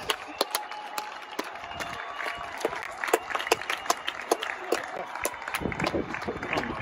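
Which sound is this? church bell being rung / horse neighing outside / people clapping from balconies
people clapping from balconies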